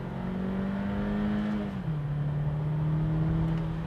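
A 2021 Audi Q2 35 TFSI with 150 horsepower in automatic mode accelerating hard, a steady engine drone climbing then dropping briefly at a gear change before rising again from inside the cabin, no talk.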